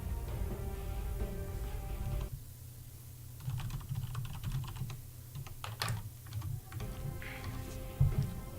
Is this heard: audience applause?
no